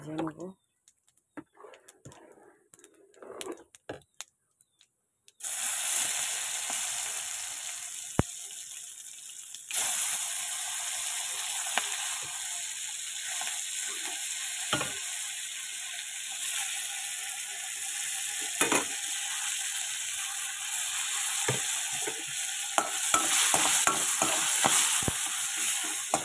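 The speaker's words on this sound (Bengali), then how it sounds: "এবার কড়াইতে দিয়ে দিচ্ছে যে সোমবারা, তেজপাতা, শুকনো লঙ্কা, জিরে, এটা ভালো করে ভেজে নেব" Panch phoron, bay leaf, dried chilli and cumin frying in a wok, quiet at first, then a continuous close sizzle and crackle with occasional clinks of a stirring spoon, a voice talking over it.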